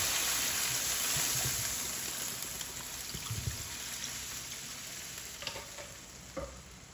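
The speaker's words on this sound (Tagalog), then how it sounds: "Pagkatapos maglagay tayo ng tubig. Gagawin ko boil." Water is poured into a hot pot of chicken for Manila-style sinampalok, giving a steady loud hiss and sizzle that slowly fades, with a few faint clinks near the end and no talking.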